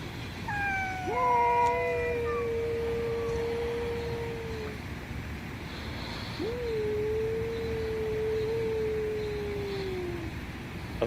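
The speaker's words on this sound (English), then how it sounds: "The cat on the stump's getting upset." A cat sitting on a stump yowls outdoors in two long, drawn-out wails separated by a short pause, moderately distant, with faint background ambience and no talking.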